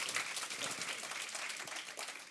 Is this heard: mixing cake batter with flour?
no